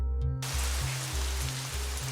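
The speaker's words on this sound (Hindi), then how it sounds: "बारिश हो रहा है।" Steady rain patters on a surface in a Hindi-dubbed action film scene, a continuous wash of falling water heard alone under a low droning hum.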